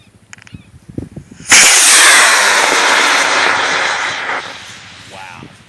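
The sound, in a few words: model rocket launching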